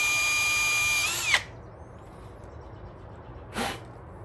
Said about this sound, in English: So you're gonna wanna drill a hole like that.